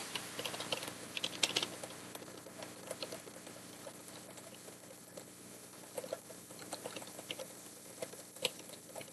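Fingers tap quietly on a computer keyboard in irregular bursts of light clicks, with a few louder keystrokes standing out.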